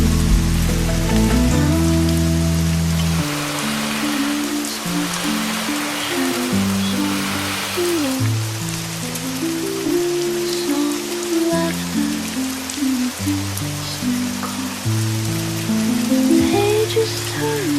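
Steady rain patters at a seaside cafe on a rainy day, a constant soft hiss beneath gentle, slow melodic notes that step through a calm tune.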